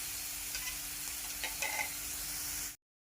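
Green chillies for Kolhapuri kat vada are stir-fried in a pan with a constant close sizzle and occasional scraping stirs. The sound cuts off abruptly near the end, and no one talks.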